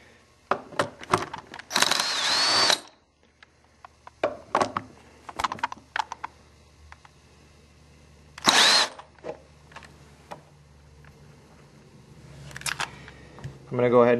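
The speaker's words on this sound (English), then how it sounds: "I'm going to use the electric drill on these." An electric drill backs out the chassis bolts of a Mesa Boogie Dual Rectifier amplifier in several short, loud whirring bursts separated by clicks, handling clatter and quiet pauses.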